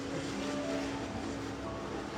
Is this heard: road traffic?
yes